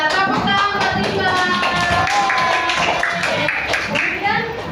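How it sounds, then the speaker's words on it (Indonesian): First-grade children in a classroom clap their hands together in a quick, steady rhythm, with young voices chanting along throughout. "Tepuk tangan Rimba."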